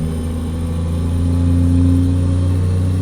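Steady, loud diesel drone from a Cummins NTC Big Cam 400 truck engine in American Truck Simulator, a deep rumbling pull holding nearly constant as it runs through a gear.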